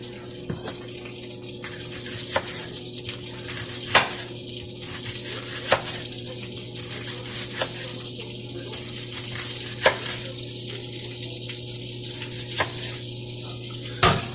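Steady low sizzle of butter in a pan, with faint scattered clicks and a constant hum underneath; no talking.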